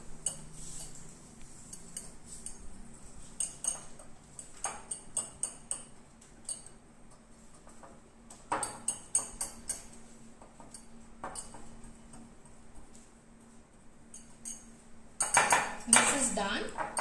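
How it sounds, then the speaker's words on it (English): Whisk mixing eggless cake batter in a bowl, quick light metallic clicks and taps against the bowl in irregular bursts, close and fairly quiet, busiest near the end. "So with a whisk, just mix this so that all the ingredients are mixed properly."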